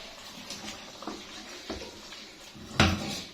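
Cooked green chicken karahi is served into a dish, with soft scattered clinks and scrapes of a utensil against cookware and one sharper knock near the end, close and quiet, no talking.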